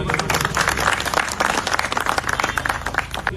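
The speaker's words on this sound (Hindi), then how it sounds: "इन सभी साथियों के लिए जोरदार ताली बजा दे" Loud clapping from a crowd at a community campaign gathering in an Indian village, dense and sustained throughout with a few louder bursts, close and filling the space.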